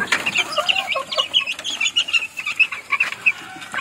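A rooster clucks in quick, uneven bursts in a backyard, close and fairly loud, with no talking.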